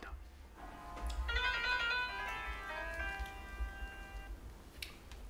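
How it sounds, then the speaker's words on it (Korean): An incoming call sets a phone ringing indoors with a bright electronic melody of several repeated notes, moderately loud over a low steady background hum and faint murmur. "그때 전화 한 통이 걸려옵니다"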